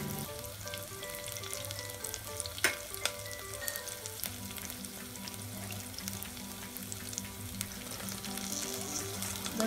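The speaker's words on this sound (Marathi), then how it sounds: "जो बटाटा आपण बारीक चिरून घेतलेला आहे त्यामध्ये टाकायचा आहे." Finely chopped potato frying in oil for kanda batata poha, a steady crackling sizzle close by with occasional sharper pops and faint stirring scrapes throughout.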